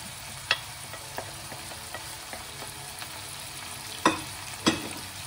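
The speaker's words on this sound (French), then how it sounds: "mon oignon est bien saisi avec ma viande. Donc je vais ajouter mes épices" Onion and meat sear with spices in a pan, a constant low sizzle under light rhythmic stirring taps, with two louder spoon clacks near the end.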